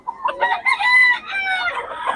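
Chickens and roosters at a poultry market crow and cluck loudly and close up, with overlapping calls filling the whole stretch and no talking.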